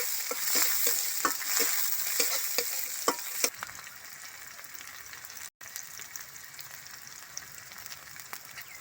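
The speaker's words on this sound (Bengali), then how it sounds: "তেলের মধ্যে একটু গোটা জিরে ফোড়ন দিয়ে দিলাম, পেঁয়াজ কুচি, কাঁচা লঙ্কা কুচি দিয়ে এবারে ভালো করে মশলাটা রেডি করে নেব।" Whole cumin seeds, chopped onion and green chilli fry in hot oil with a bright crackling sizzle and rhythmic spatula taps for the first few seconds, then a softer continuous sizzle after a brief dropout.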